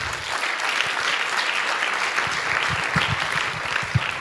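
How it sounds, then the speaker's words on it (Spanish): Audience applause for a panelist at a panel on innovation and entrepreneurship in a circular economy, at an economics forum. Steady, dense clapping from a sizeable crowd continues throughout, with no voices over it. "Por favor, un aplauso para Konrad."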